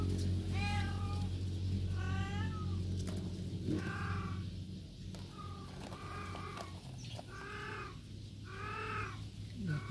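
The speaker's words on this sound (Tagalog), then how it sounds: "pasensya na po sa maingay na pusa" A cat meows insistently indoors during orchid repotting, repeated drawn-out cries in clusters across the span, fairly close over a low background hum.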